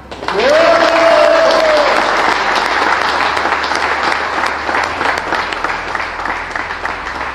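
Loud sustained applause from a crowd at a political candidate list presentation in Aruba fills the space, steady clapping throughout, with a brief feedback-like tone near the start.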